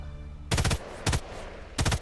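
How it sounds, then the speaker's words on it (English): Three short bursts of enemy automatic gunfire in Sniper Elite 5, each a rapid rattle of shots, separated by brief gaps over a low background hum. "Oh, I'm getting shot at."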